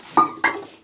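Dishes and pots clatter during washing up in a home kitchen after cooking, two sharp clinks of metal utensils and vessels close by, each ringing briefly before fading, with no talk.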